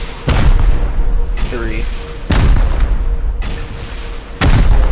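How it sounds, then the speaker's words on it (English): Rockets in the Rust video game slam into a high external stone gate, producing four heavy booming blasts at roughly even intervals, each followed by rumbling decay, while a voice counts between them. "4 rockets to take down the high external stone gate"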